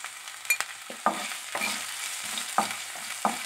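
Ginger garlic paste fries in hot oil in a pan for shakshuka, a soft continuous sizzle punctuated by a handful of sharp spatula scrapes and taps, close by with no talk.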